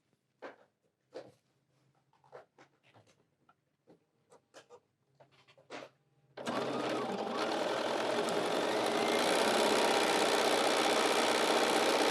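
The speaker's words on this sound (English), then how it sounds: "sewing a 1/4 inch, and then it'll fold up here" A sewing machine stitches a quarter-inch seam on fabric for a folding wallet, starting after a few quiet handling clicks and then whirring loud and steady up close for the rest.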